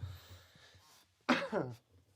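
A single sharp cough bursts out close by after a quiet stretch with faint low hum.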